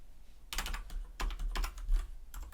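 Quiet computer keyboard typing while writing JavaScript code, bursts of rapid soft key clicks separated by short pauses, close and faint with no talk.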